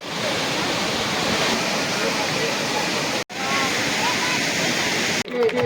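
Usri waterfall in Giridih roaring as a steady, loud broadband rush of falling water, continuous throughout with two brief cuts.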